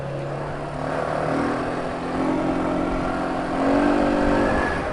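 A quad bike engine accelerating, its close, steady drone rising in pitch in a few stepped surges as it gathers speed, with wind rush underneath and no talking.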